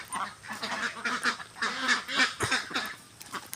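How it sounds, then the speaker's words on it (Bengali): Many ducks on a crowded duck farm quack and honk in a dense, overlapping chorus, loud and close with bursts rising and falling throughout, no speech over it. "দেখেন হাজার হাজার হাঁস"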